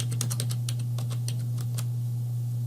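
Rapid keystrokes on a computer keyboard, a quick string of close clicks in irregular bursts over a steady low electrical hum, with no voices.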